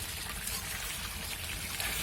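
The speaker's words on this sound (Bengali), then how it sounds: "এবার পানি দিয়ে দিম" Water poured into a Bengali-style deshi chicken curry in a pot, a steady close splashing pour that runs unbroken throughout with no talk.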